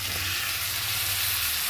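Sliced eggplant and potato frying with spices and tomato in a pan give a brief, loud, continuous sizzle with no voices.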